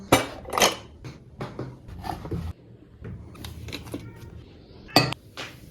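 Dishes, pots and cutlery clatter and clink irregularly as they are handled and washed, with brief running-water bursts and quiet gaps between.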